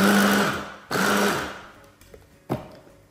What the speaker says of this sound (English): Nicely finely chop it so it can actually somewhat resemble rice.